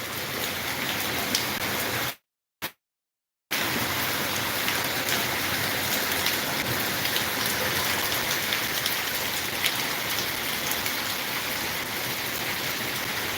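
Heavy downpour on flooded streets in Bathinda, a steady loud hiss of rain on surfaces that drops out completely for about a second before resuming unchanged, with no voices.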